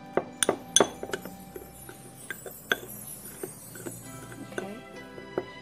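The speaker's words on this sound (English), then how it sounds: "you will mix the mixture very well" A spoon clinks repeatedly against a glass container as a skin-cleansing mixture is stirred, producing sharp, irregular taps up close with no speech.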